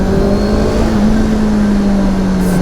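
A 2023 Honda CBR650R sport motorcycle's engine holds a steady, loud drone while riding downhill into a bend, its pitch easing slightly lower throughout, with no talking.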